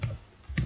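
Two short clusters of keystrokes on a computer keyboard, quiet and close, separated by a brief gap.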